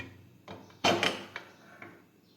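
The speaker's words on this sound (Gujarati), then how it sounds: "હવે આપણે કુકરનું ઢાંકણ છે તે બંધ કરી દઈશું।" A pressure cooker lid is closed over bitter gourds set to boil, giving a few soft clunks and one louder metallic clack near the middle, quiet and close by.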